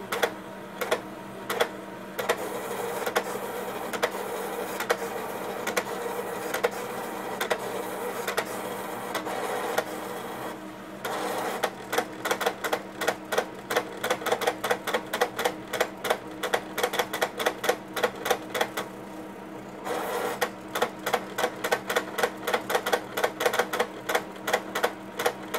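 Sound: HP plotter drawing graticule from HP 853A analyzer

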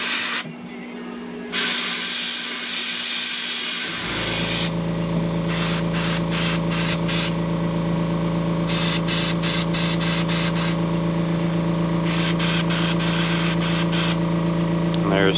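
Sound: airbrush spraying paint on a shiner shad popper lure

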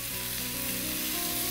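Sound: ground meat sizzling in a pan

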